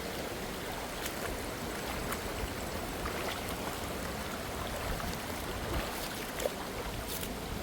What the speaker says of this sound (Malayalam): ഈ വെള്ളത്തിൽ കൂടി ചവിട്ടിയാണ് നടക്കുന്നില്ല.